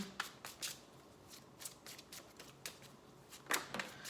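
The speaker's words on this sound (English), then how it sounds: "And let me go ahead and throw some cards down." Tarot cards are shuffled and tossed down on a table, giving quiet, close, irregular riffling flicks and soft slaps in short bursts, with no talking.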